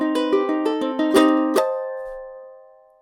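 Closing phrase of a piece on ukulele: a quick run of plucked notes, two strong strummed chords, then a long ringing fade into silence.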